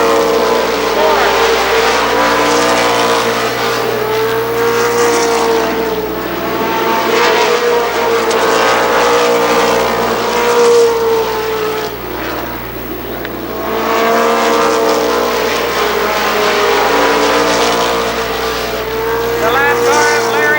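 Race cars roar around the Columbus Motor Speedway oval during the 1995 Firecracker Championship, loud engines rising and falling in waves as the pack sweeps past and circles again, with announcer talk in places.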